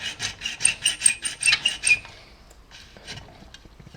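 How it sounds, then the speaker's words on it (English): Small hand saw cutting a polystyrene H-beam in a miter box: about eight quick rhythmic rasping strokes close up, then a few softer scrapes and taps after a pause. "we use our little saw here, and we cut that little H-beam"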